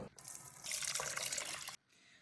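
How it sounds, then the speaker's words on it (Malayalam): Homemade grape wine pours through a strainer in a steady splashing stream that stops abruptly, leaving quiet afterward. "ഇതിലേക്ക് നമ്മൾ അരിച്ചൊഴിക്കാൻ പോവാണ്"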